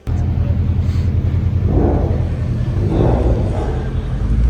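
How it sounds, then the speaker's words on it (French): Cars leave at the close of a retro auto and motorcycle show in Chambéry, a steady engine rumble with a couple of passing swells under faint crowd noise. "Là vous entendez peut-être, mais les voitures sont en train de partir."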